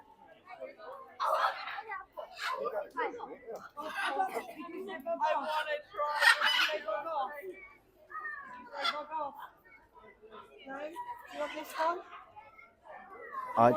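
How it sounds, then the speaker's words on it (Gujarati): Parrots of many kinds call back and forth in a park aviary in Leicester, with shrill, chattering squawks and whistles that come in uneven bursts, mixed with what may be nearby voices. "Look, the, the two parrot talk together."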